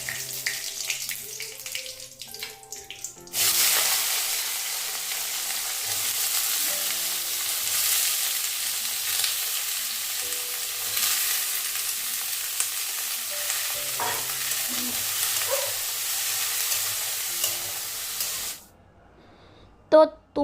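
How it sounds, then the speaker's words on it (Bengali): Cashew nuts frying in a pan at home, a steady loud sizzle that starts abruptly after some quieter kitchen noise, carries on for about fifteen seconds with occasional stirring scrapes, then cuts off sharply. "আর এখানে আমি একটু কাজু বাদামগুলোকে একটু ভেজে নিচ্ছি"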